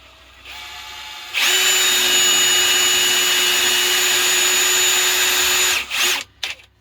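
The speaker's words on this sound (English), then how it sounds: "I'm going to drill a hole in the center of this slot." A power drill whines steadily at high speed for several seconds, loud and close, drilling a hole in a tractor seat slot, then spins down and stops with a couple of short bursts.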